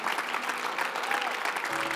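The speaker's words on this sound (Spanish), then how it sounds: "Pensé que iban a aplaudir más" Church congregation applauding during a sermon, a dense, steady wash of many hands clapping close by, with a faint voice or tone slipping in near the end.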